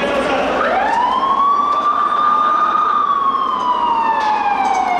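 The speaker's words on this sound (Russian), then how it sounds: "На место ЧП оперативно прибывают пожарные расчеты." A fire engine siren wails loudly and close as fire crews arrive at a burning truck inside a road tunnel, the tone rising and holding in a long steady sweep over a broad roar of traffic noise.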